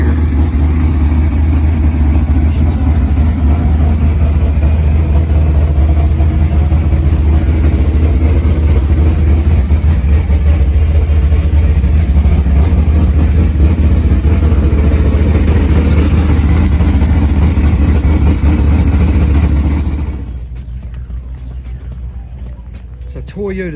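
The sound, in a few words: Toyota 1600 car engine idling and revving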